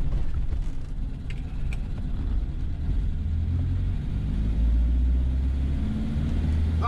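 A 1969 Reliant Regal on the move, its small engine giving a steady, loud rumbling drone with a low mechanical hum throughout, heard from inside the car with no talk.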